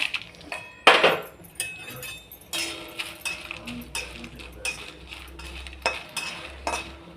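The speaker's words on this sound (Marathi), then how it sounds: "पहिली मिरच्या भाजून घेऊ. चला, कढई तापत ठेवली आहे." Chillies roast in a hot kadhai while a metal spoon stirs them, giving irregular scraping clinks and clatters up close, with scattered taps and a faint sizzle between strokes.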